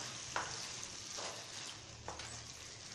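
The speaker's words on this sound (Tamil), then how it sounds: "இப்போ இந்த ஸ்டேஜில் முட்டை ஆட் பண்ணி நல்லா பரட்டி விட்டுக்கலாம்" Egg is stirred gently into sizzling masala in a pan for Tamil-style egg keema gravy, a soft steady frying hiss with a few faint scraping stirs, close and quiet, no voices.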